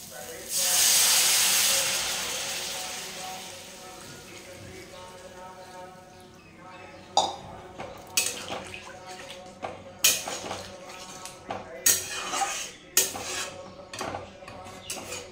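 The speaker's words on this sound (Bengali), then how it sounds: "মশলাটা কষানো হয়ে গেছে, এবার দিয়ে দেবো জল।" Water hits fried spice paste in a pan for a small-fish curry with thankuni leaves, giving a loud steamy hiss that fades over a couple of seconds, followed by sharp clinks and scrapes of a spoon against the pot.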